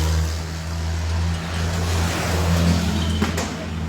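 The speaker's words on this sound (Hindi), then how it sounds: "दोबारा से ट्रैक्टर मोड़ के ले जा रहे हैं।" A tractor turns and pulls away during a farmers' protest clash with police, its steady low engine drone rumbling close and continuous, with a faint sharp knock near the end.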